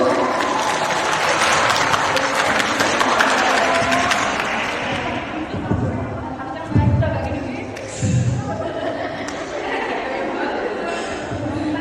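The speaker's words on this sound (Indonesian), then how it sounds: "Tepuk tangan dulu." Students applauding at a school public speaking session, a dense burst of clapping that fades over several seconds into murmured chatter, a few thumps, and talking.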